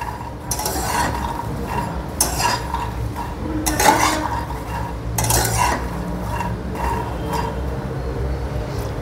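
Makhana foxnuts are dry-roasted over low heat in a kadhai, with a spatula steadily stirring and scraping them, and light clinks and rattles of the nuts against the metal pan throughout.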